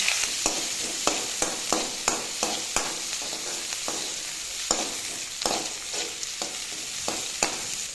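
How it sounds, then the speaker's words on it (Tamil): Shallots, curry leaves and green chillies frying in hot oil for a fish curry, a steady sizzle punctuated by frequent sharp clinks of stirring against the pan, close and alone. "எண்ணெய் ஊற்றியாச்சு. சதைச்சி வச்சுருக்க சின்ன வெங்காயம், கருவேப்பிலை, பச்சை மிளகாய் கீரி போட்டிருக்கேன்."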